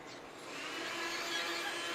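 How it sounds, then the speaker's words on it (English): A vacuum cleaner runs in another room of a home, a steady, moderately faint whirring drone that swells slightly and holds without pause. "he thought it would be a good idea to vacuum"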